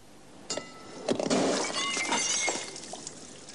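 Cesium metal reacting violently with water, a sudden bursting, crackling blast at about half a second that swells into a loud, sustained fizzing and spattering, then gradually fades.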